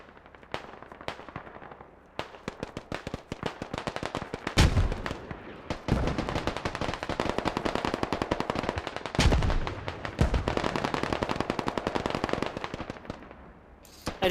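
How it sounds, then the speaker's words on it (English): Dense gunfire from the video game Squad: rapid machine-gun bursts and single shots crackle almost continuously, loud and close, with heavier booming reports mixed in and only brief lulls between volleys. "I just love seeing the amount of fire coming out now that players are encouraged to shoot."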